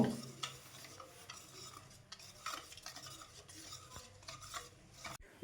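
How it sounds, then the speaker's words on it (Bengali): Patishapta batter thinned with milk is stirred in a bowl, soft scraping and sloshing strokes with occasional light clinks of the utensil against the bowl, quiet and close. "আবার আমি কিছুটা দুধ দিয়ে দিচ্ছি এখানে দিয়ে আবার আস্তে আস্তে এটা গুলিয়ে নেব"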